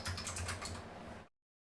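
Rapid keystrokes on a Razer Huntsman Mini 60% keyboard, close and fairly quiet, a steady run of clicks that stops abruptly after about a second.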